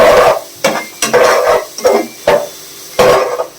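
Potato pulao ingredients frying in a pot and stirred firmly, with repeated loud scrapes of a spoon against the metal in an uneven rhythm over a soft sizzle, close up.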